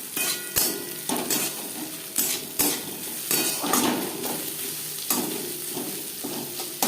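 In a pan, garlic is stirred into onions fried until reddish for a shop-style dal fry. A soft sizzle runs underneath while a utensil scrapes and clinks repeatedly against the metal, close by and with no talk.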